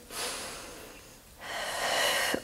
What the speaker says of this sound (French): Encore une respiration ici.